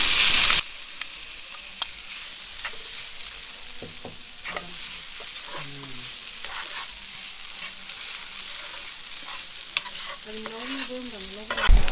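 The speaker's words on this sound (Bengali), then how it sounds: "তো এখন আমি এই প্যানের মধ্যে দিয়ে দিচ্ছি নারিকেল পোড়ানোগুলি" Roasted coconut pieces are stirred and fried in a pan, giving a steady broadband sizzle with scattered scraping and clinking strokes throughout, and faint tonal chirps near the end.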